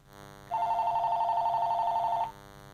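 A phone ringtone sounds once as a steady electronic tone lasting under two seconds, fairly loud against a quiet room, with no talk over it.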